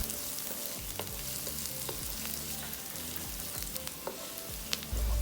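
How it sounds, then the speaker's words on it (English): Garlic stir-fried in vegetable oil over medium heat fills the pan with a steady frying sizzle, broken by soft spatula stirs and tosses, no voices. "Add in garlic and sauté them on medium heat. Just stir them, toss them around, stir fry them until they become fragrant."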